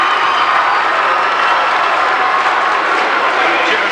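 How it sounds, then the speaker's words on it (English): A crowd at a 1990 high school basketball semifinal between Pella Christian and Western Christian cheers and applauds loudly and steadily, a dense roar under a commentator's voice. "And listen to this crowd."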